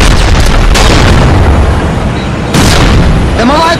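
A predator missile explodes in a multiplayer shooter game as a loud, close boom, followed by a second burst and crackling debris.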